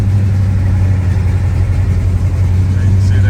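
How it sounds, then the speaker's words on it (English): A 1975 Pontiac Firebird Formula 400 V8 runs with a loud, steady, close low rumble and a slight lift in revs, without pauses. "We're going to start up our 75 Firebird Formula"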